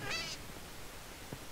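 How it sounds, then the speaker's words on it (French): A small cat meows in a Minecraft game, one short, fairly clear call near the start, followed by a faint second chirp at the end over a steady low background. "Un petit chat."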